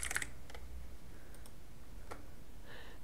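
A computer keyboard is struck in a few quiet, scattered key clicks, close by but faint, with no talking.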